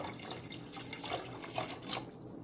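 Water pours from a tap into a soup pot holding quinoa for a spicy sausage and kale soup, a steady close splashing stream with no talk.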